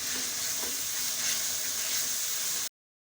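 Chopped green chillies and tomatoes go into a hot pan for anda saag and sizzle loudly and evenly up close, a steady hiss that cuts off abruptly before three seconds.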